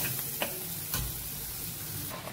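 Shrimp fried and stirred in a pan, a steady low sizzle with occasional scraping clicks of the utensil against the pan, no talking.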